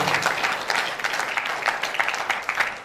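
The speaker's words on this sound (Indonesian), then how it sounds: "Dan beri sambutan aplaus kepada mereka." An audience at an entrepreneurship mindset workshop bursts into steady applause, a dense continuous patter of many hands clapping that holds for a few seconds.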